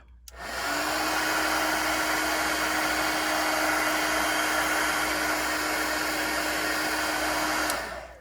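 A heat tool melting embossing powder on a card blows a steady, loud whooshing hum with a constant tonal whine, switched on and running for about seven seconds before cutting off, with no talking.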